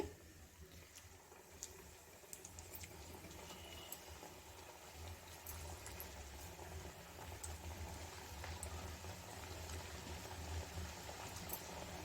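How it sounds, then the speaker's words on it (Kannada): A second batch of a homemade sweet deep-frying in hot oil over a low flame, giving a steady, even bubbling hiss that runs unbroken throughout with faint scattered crackles and no voices. "ಈಗ ಸೆಕೆಂಡ್ ಬ್ಯಾಚ್ನ ನಾವು ಇದೇ ರೀತಿಲಿ ಫ್ರೈ ಮಾಡಿ ತಗೊಳ್ಳೋಣ ನಾನು ಸೆಕೆಂಡ್ ಬ್ಯಾಚನ್ನು ಹಾಕೊಳ್ತಾ ಇದ್ದೀನಿ"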